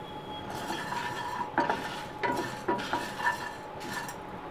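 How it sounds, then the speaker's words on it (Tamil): Spices roasting in a pan until golden, with a low dry sizzle under repeated scraping and clinking stirs of a spoon against the metal. "இது நல்லா பொன்னிறமாக ஆகிற வரலும் நல்லா வறுத்து எடுத்துக்கலாம்"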